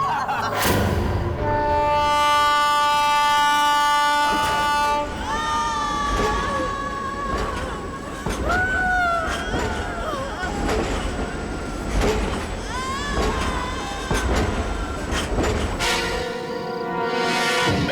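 A passenger train running, a loud rumbling rail clatter with sustained tonal, horn-like notes over it, continuous for the whole stretch and ending in a brief quiet moment.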